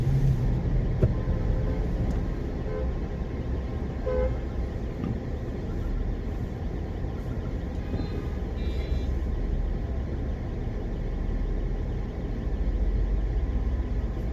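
A car rolls steadily through a highway toll plaza on UER 2 between Bahadurgarh and Karala, with a constant low road and engine drone and faint traffic and horn toots around it.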